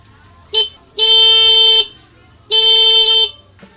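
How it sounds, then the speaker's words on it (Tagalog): A car horn wired together with a passing light gives three honks: a short toot, then two long steady blasts with a pause between them, loud and close with no talk over it. "Tapos pipindutin ko yung busina."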